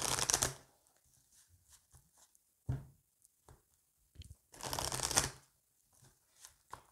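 Oracle cards being shuffled by hand during a tarot-style reading: two fuller riffling bursts at the start and near the middle, with soft taps and card flicks between them, close and fairly quiet, and no talking.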